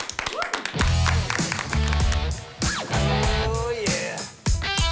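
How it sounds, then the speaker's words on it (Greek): Clapping for a performer in a music show, with sharp hand claps that fall in a rhythm alongside loud instrumental music. A voice can be heard amid the claps. "Πάμε δυνατά ένα χειροκρότημα για τον αδελφό."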